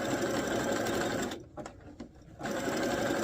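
A sewing machine runs close by, zigzag stitching elastic onto a dress, with a steady fast whir that stops for about a second before starting again.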